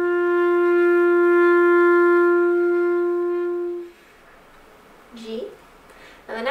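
A clarinet sounds an open G with no fingers down, one steady sustained note lasting about four seconds, close and full, followed by near silence and a couple of short voice-like bursts.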